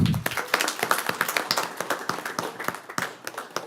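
Clapping at a city council meeting in honor of a local boxing academy: a small group's distinct, fairly sparse claps land unevenly at close range, with no voices over them.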